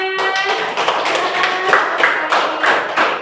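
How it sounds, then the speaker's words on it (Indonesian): Classroom of elementary school students clapping together, a steady dense patter of many hands close by, loud and continuous for a few seconds with no talk over it. "Tepuk tangan."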